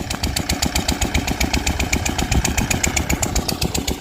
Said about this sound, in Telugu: ఇది ఒక ఇంజిన్ అనమాట